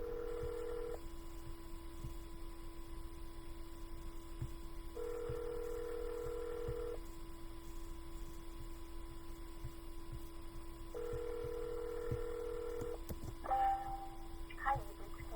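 Dual-tone telephone dialing from a 3-line dialer used for real estate cold calling: steady tone bursts repeat at intervals over a constant hum, with a few brief clicks near the end.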